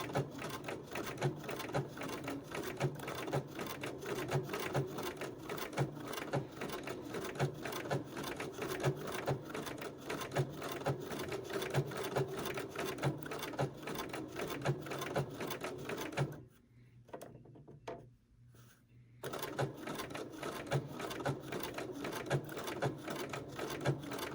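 A sewing machine running a blanket stitch along an appliqué edge, its steady rapid mechanical clatter continuing evenly before stopping briefly and then starting up again, with no talking.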